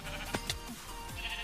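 Sheep in Minecraft bleat a couple of times, short wavering cries heard close against a faint background hum.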